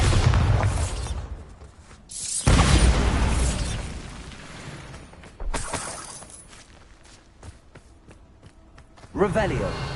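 A blasting-spell explosion in the game Hogwarts Legacy, a loud sudden boom with a shattering burst followed by decaying debris rumble, amid other game effects and a speaking voice.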